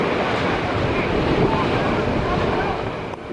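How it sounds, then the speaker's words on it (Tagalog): Strong sea waves pound tethered rescue boats during a ferry passenger rescue off Negros Oriental, a continuous heavy roar of surf and churning water mixed with wind buffeting the microphone. "Kalaban ng mga rescuer ang malakas na alon na patuloy na binabayo ang mga rescue boat."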